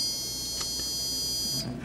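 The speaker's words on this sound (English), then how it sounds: "It's been turned to the logic circuit, which means there should be a buzzer" A voltmeter set to its continuity buzzer mode sounds as the circuit is completed: a steady, thin high-pitched electronic whine over broadband hiss, holding evenly before cutting off near the end.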